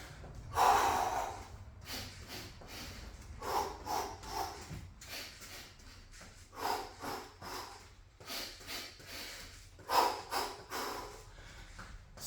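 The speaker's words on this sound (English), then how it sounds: "See how I'm breathing in phases?" Heavy, phased breathing from a person mid-workout in a home garage gym, with rubber bands and TRX gear; sharp snorting exhales and gasping inhales come in repeated bursts, close and fairly loud.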